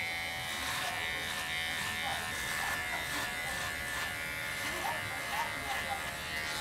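Steady close electric buzz of a hair clipper cutting a fade haircut, working upward from the lower sides, running continuously with small shifts in tone as it moves through the hair.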